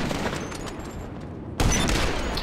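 Gunfire in a video game, a steady rattle of shots that jumps to a louder, denser volley partway through, with no voices.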